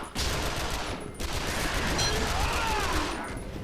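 Dense, continuous gunfire from the video game Yakuza: Dead Souls, a loud sustained volley of overlapping shots filling the whole moment with only brief gaps.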